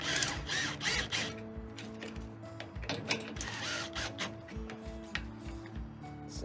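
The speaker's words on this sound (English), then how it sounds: "Take some self-tapping screws and run those through the light, through our ground" A power driver sinks self-tapping screws through a trailer light and its ground wire into the metal frame, giving a steady mechanical whir with repeated ratcheting bursts and clicks, close and fairly quiet.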